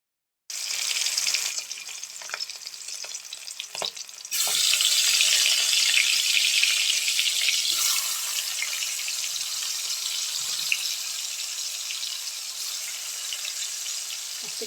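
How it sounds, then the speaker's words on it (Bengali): Tap water gushes steadily over chopped wild taro being washed in a village kitchen, a bright continuous splashing rush that swells louder partway through and keeps running alone without voices. "তাই চলো প্রথমত কচুটা ধুয়ে একটু ভাপা দিয়ে নিই"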